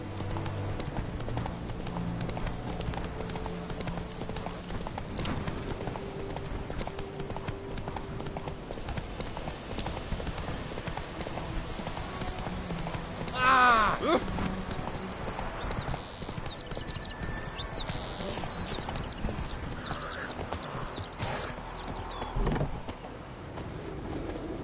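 Roach the horse trotting in The Witcher 3, a steady clip-clop of hooves running through the whole stretch with game ambience, a brief whinny partway through.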